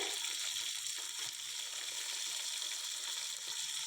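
A handful each of mint and coriander leaves sautés in a pan for chicken biryani, a soft, steady sizzle and crackle heard up close but faintly, with no talking.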